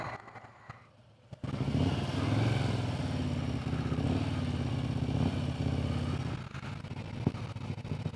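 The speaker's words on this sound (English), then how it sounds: "There are motorcycles in there." A motorcycle engine starts up loudly and idles with a steady, throbbing putter close by for several seconds, with a little clatter near the end.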